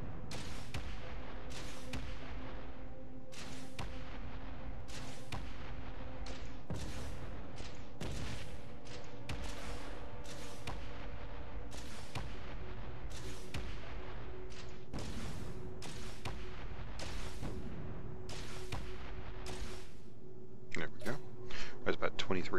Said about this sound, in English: About 23 shots there.